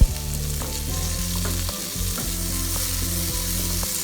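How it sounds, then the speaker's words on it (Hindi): Chana dal being dry-roasted in a pan makes a close, steady sizzle, with rhythmic scraping and stirring strokes running through it and no one talking. "दाल को डालने के बाद हम इसको 2 या 3 मिनट के लिए भूनेंगे"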